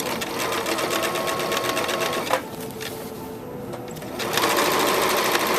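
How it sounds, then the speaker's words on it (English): A sewing machine stitches a fabric panel up to a pin in a fast, steady mechanical chatter, pausing briefly in the middle before running on again, close and clear. "And I'll take my time and sew right up to my next pin."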